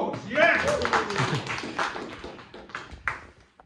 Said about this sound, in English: Nice round of applause, yes!